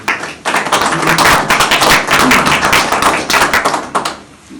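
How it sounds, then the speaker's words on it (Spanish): Loud, dense applause from a crowd at a regional community meeting in Pesillo, Imbabura, many hands clapping rapidly and steadily for about four seconds before quickly dying away. "fuerte el aplauso por favor"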